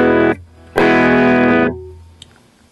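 Two strummed chords on an electric guitar with a dry, unprocessed signal, each ringing loud and then cut off, the second held longer before fading into quiet.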